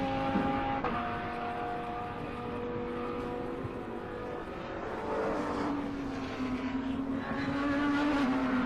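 Race cars lapping a circuit during a SAGTRA race, engines droning steadily with rising and falling pitch as two cars run close together, loud and continuous without talk.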